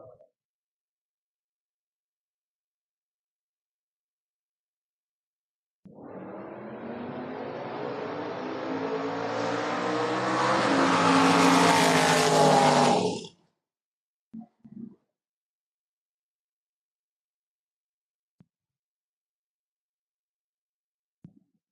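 A Ford Mustang drag car launches hard down the strip at a door-wars drag race: a loud, sustained roaring engine surge lasting several seconds that builds and then cuts off abruptly, followed by brief distant bangs.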